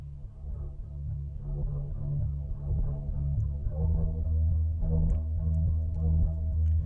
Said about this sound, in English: You can hear the compressor kind of clamping down at the beginning of it.